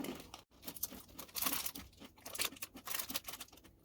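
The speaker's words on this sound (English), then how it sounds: "All of the sprinkles make it really crunchy." Crisp, crunchy chewing of a sprinkle-covered cookie, close and fairly quiet, with irregular bursts of crackling bites and a brief pause early on.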